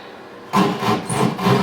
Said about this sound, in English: So I used my drywall saw to cut out a piece of the ceiling, big enough for me to put my hand in.